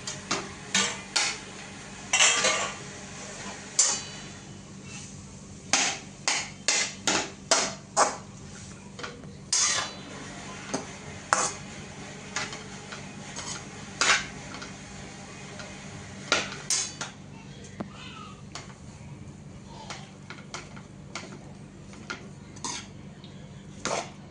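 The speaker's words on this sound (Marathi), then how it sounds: "याला थोडंसं हलवून घेऊ" Tomatoes and vegetables for Mumbai-style pav bhaji get stirred in a pan without oil or butter, a series of sharp metallic clanks and scrapes of a utensil against the pan in bursts, with no voices.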